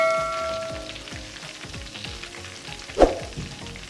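Chicken frying slowly in a pan over a low flame for chicken tikka pulao gives a soft, steady sizzle, with one brief clatter near the end.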